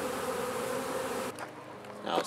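A swarm of honey bees flies around a hive box, a dense continuous buzzing drone close by that thins out near the end, with faint rustling and no talking.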